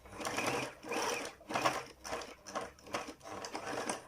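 A sewing machine stitches a fabric face mask in bursts, running in about five short runs with brief pauses between them as the seam is back-stitched and the needle pivoted.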